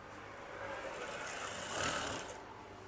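A sewing machine stitching eyelet curtains gives a quiet, steady mechanical whir that rises briefly toward the end before easing off, close and without talking.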